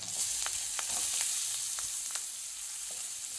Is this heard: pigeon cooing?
no